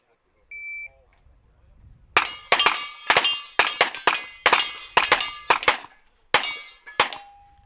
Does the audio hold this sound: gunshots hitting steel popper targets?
yes